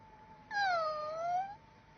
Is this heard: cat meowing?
yes